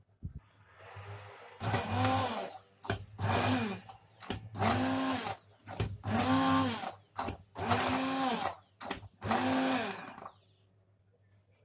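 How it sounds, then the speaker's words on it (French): An immersion blender mixing panna cotta in a pot, running in about eight pulsed bursts of loud whirring, each a second or so long and separated by brief pauses, close and without talk. "je vais le mixer ici avec un mixeur plongeant"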